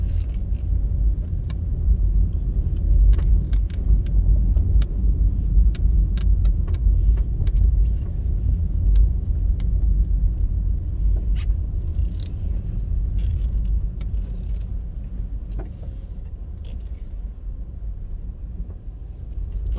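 A car cruising through a residential neighbourhood in Kingston, Jamaica, on a morning drive: steady, close low engine and road rumble throughout, with occasional creaks and light knocks from the cabin and no talking.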